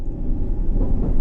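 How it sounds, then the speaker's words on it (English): Subway train running on a self-made H&C Line route in World of Subways 3, a steady loud low rumble of motor and wheels on rails, heard close with no voices. "now we have a different train sound because we got a different train"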